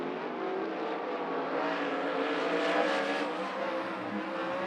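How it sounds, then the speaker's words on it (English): A pack of 410 sprint cars roaring onto the track at speed, a dense sustained engine drone at steady loudness, heard from a distance with no talk. "Cars taking the green flag and getting onto the clock for their 3 laps."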